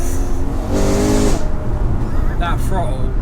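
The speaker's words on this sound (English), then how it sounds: "look at the speed of the gear shifts as well, like immediately." A GTS sports car engine revs hard with rapid, crisp gear shifts, a brief near rising howl that cuts off abruptly, with people talking over it.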